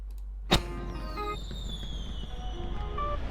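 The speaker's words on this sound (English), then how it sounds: "Okay, fireworks." A single sharp firework burst in a music video cracks out loudly, then fades into a sustained musical backdrop with a steady electronic tone.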